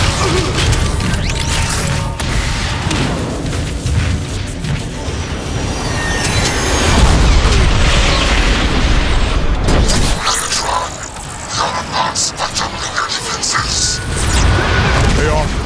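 Rocket explosions and crashing blasts from the Transformers: Fall of Cybertron video game, heavy and sustained with booming impacts that rise around the middle, while voices talk over the din.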